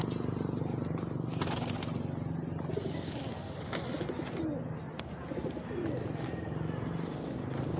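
Pigeons cooing nearby in a low, repeated murmur beneath a noisy outdoor background, with occasional sharp knocks and rustles throughout.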